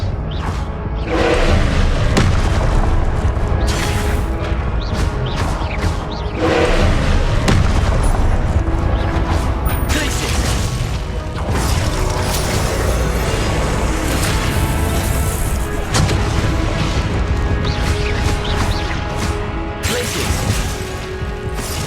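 Confringo blasting spells exploding during Hogwarts Legacy combat: a dense, loud barrage of booms and crashing impacts over a continuous roar of battle effects, with no clear pauses.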